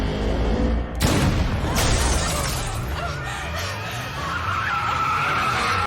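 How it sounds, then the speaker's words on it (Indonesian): A car skids and crashes, rolling over on a quiet asphalt road through a forest in a film scene: a sharp impact with shattering glass near the start, then sustained tire screech and grinding scrapes, loud and close, with no talk. "membuat mobil Lady kehilangan kendali hingga terguling di jalan aspal yang sepi di tengah hutan"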